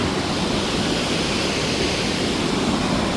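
Water rushes steadily near a deep lake viewpoint at Bhimtal or Naukuchiatal, a loud, continuous broadband roar like a nearby waterfall or stream, with no voices over it.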